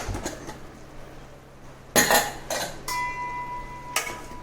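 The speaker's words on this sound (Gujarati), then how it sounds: "હવે આપણે કુકર ખોલીને જોઈ લેવાનું છે।" A pressure cooker is opened in a home kitchen while cooking Gujarati ormu, giving a few sharp metallic clanks and clinks of the lid and pot with a short ringing tone, spaced over a few seconds against a quiet background.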